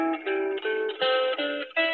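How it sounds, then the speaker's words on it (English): A guitar plays a pentatonic scale: about seven clean single notes picked one after another at an even pace, each ringing briefly, close and clear without any voice. "So if I play the pentatonic scale, it looks like this."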